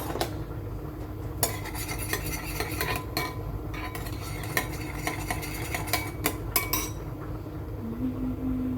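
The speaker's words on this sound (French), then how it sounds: "On va mélanger tout ça." Cooked rice is mixed with soy sauce, olive oil and parsley, a spoon clinking and scraping against the pot in quick irregular strokes over a faint steady background hum, with no talking.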